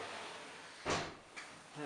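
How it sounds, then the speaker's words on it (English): An interior door of a house opens with a short broadband clunk and rattle, followed by a softer knock a moment later, fairly close, with quiet room tone around it and no talking. "we go through this door."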